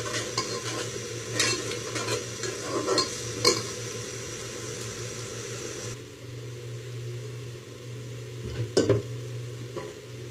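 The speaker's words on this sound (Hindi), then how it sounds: "मैंने चूल्हा मीडियम आंच पे कर दिया। मसाला मेरा भुन चुका है।" Masala with tamarind paste frying over medium heat in a pan, a steady low sizzle with scattered clinking stirs of a spoon against the pot, heard up close without talking.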